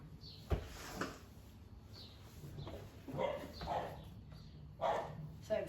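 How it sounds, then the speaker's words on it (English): A dog barks several times at a distance, in short separate bursts with pauses between them, behind a quiet indoor room. "There goes the dog again."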